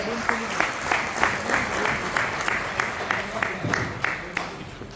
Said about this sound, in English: Once clap for yourselves.